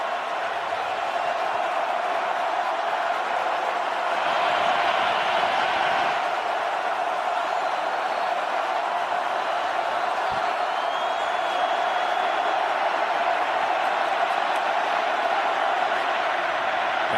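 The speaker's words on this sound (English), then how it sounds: "Let's listen to this crowd." A stadium crowd at an NFL AFC Championship game between the Bengals and the Chiefs roars in a dense, sustained wall of noise. It swells briefly partway through and keeps going, with distant cheering and whoops.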